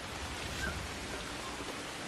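Steady rain falling in the video game Assassin's Creed Shadows, a dense continuous hiss with no breaks, heard alone at moderate level.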